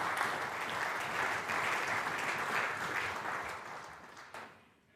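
Sustained audience applause fills a hall after a speech at a church theological forum, steady and dense for several seconds before tapering off near the end.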